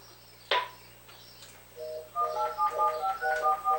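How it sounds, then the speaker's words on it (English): A new landline telephone being dialed, a sharp click followed by a quick run of short, steady beeping tones in uneven bursts, close and fairly clear. "This is the new landline phone because we can't see the computer phone to answer it."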